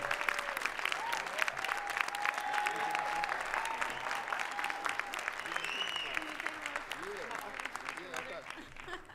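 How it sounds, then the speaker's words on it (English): Audience applause at a Dr. Martin Luther King Jr. birthday celebration, steady dense clapping throughout with faint voices mixed in beneath it. "definitely give us another round of applause"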